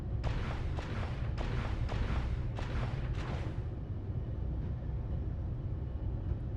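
Artillery fire in the Space Engineers game: five or six heavy booming shots in quick succession over a constant low rumble, then the rumble continues alone.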